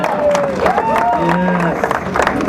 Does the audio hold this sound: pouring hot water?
no